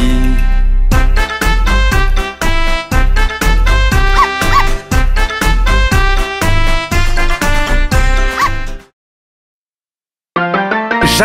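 Puppies bark and yip in a rapid, loud string of sharp, bright yelps with a musical backing in a French nursery rhyme, stopping abruptly before a short silence and a brief return.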